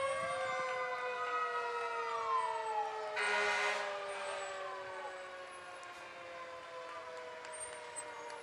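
Loud, raucous wailing sirens from St. Joseph emergency vehicles rolling past in a small-town parade, several overlapping tones sweeping steadily and close by, with a brief burst of broadband noise midway.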